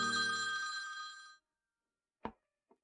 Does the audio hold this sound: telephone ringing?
yes